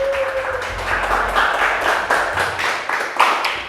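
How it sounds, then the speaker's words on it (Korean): Congregation applause during a children's church worship service, a dense run of many hands clapping for several seconds at steady loudness. "우리를 하늘 가족으로 묶어주신 하나님께 감사의 박수 한번 올려드리겠습니다"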